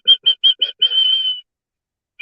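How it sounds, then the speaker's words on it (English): Pet birds indoors chirp in a quick run of five short, bright notes, then hold a longer whistled tone, followed by a pause and one more brief chirp, close and clear with no talk. "I've been hearing them chirp all morning."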